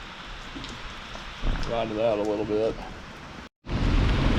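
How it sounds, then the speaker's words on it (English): Steady rain falls outdoors at a park shelter during a mountain bike ride, making a constant hiss, while someone speaks briefly over it before a short dropout. "It's raining, pretty good."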